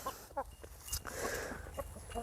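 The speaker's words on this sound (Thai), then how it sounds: "ตัวนี้ผมเป็นไก่หลาก เลี้ยงไว้กินนะครับ" Free-range meat chickens in a flood-prone backyard garden give a few short, soft clucks close by, spread across a couple of seconds over low outdoor background noise.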